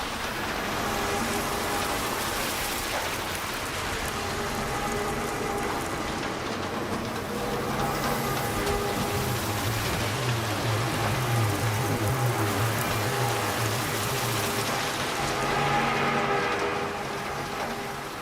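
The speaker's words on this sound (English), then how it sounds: "here on the floor is an auxiliary sound that is the sound of the water drops splashing and hitting other surfaces" Water drops from a fire sprinkler splash onto the floor and nearby surfaces in Star Citizen, a steady pattering spray with low rumbling underneath, continuous and fairly close, with no talking.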